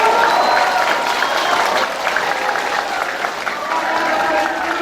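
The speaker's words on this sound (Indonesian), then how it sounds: "Kita beri tepuk tangan yang meriah sekali lagi untuk Bapak Ibu." A school audience at an Indonesian National Teachers' Day celebration at a junior high school gives teachers a sustained round of applause, dense loud clapping with some voices mixed in.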